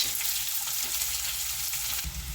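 Chopped onion frying in hot oil in a pan for methi sabzi, a fenugreek-leaf curry, producing a dense, steady sizzle heard close up with a slight shift near the end.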